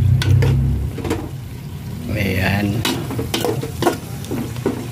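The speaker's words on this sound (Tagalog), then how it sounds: "Ginisa ko na muna yung baboy." Pork sizzles loudly while being sautéed and stirred in a pan, with scraping stir strokes and short bursts of frying, as someone speaks briefly over it.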